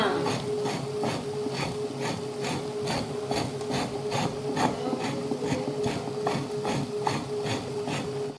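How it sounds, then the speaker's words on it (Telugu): Wet grinder churning black-eyed pea batter for vadas, a steady rhythmic scraping grind repeating evenly at close range, with faint speech in the background. "ఇంకా గ్రైండర్లో పిండి మెదిగే లోపల"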